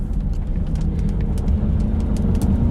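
A Chrysler 300 with a V8 engine grumbles while driving, a steady deep low rumble from the cabin with light road noise on top and no talking.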